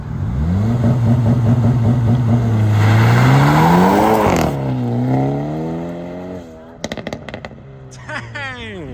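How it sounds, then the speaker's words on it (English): A Hyundai Elantra N launches, its engine revving hard and climbing through rising tones before shifting down, followed by sharp pops and crackles from the exhaust, loud and close. "About to launch the Elantra N."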